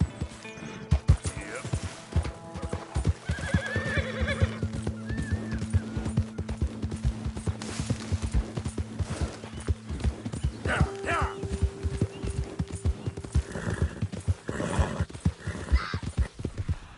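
In the Red Dead Redemption video game, a horse's hooves clip-clop at a gallop nearly throughout, with whinnies and neighs breaking in, while a voice talks over parts of it.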